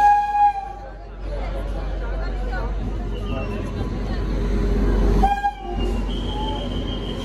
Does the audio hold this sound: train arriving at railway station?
yes